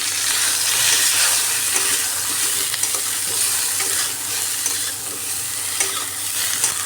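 Cauliflower florets frying crisp in hot oil with a little salt in a pan, with steady loud sizzling and occasional stirring clatter throughout, no voices.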